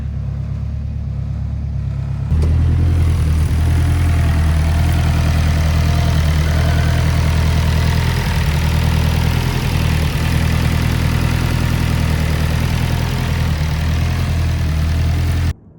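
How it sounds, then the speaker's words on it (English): A turbocharged Acura RSX with a six-speed gearbox idles on ethanol after a cold start, still untuned. A loud, steady low engine drone runs close to the microphone, steps up slightly in level early on, then cuts off at the end. "So this is a cold start on ethanol. Plus it's still not tuned, but doesn't sound bad."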